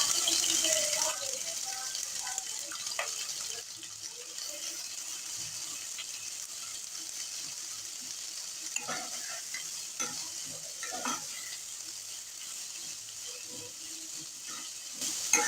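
Finely chopped onions, four medium ones, fry steadily in a pan over a medium flame, giving a continuous soft sizzle with occasional scraping and clicking stirs.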